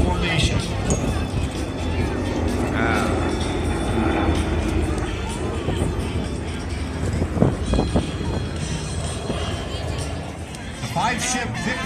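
Several jets flying a five-ship formation at a March Air Force Base air show give a broad, distant roar that carries on steadily. Crowd noise and an announcer's voice run over it.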